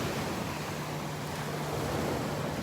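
Steady broadband wash of waves breaking on the beach at Delnor-Wiggins, a continuous, even roar with a faint low hum running through it and no voices.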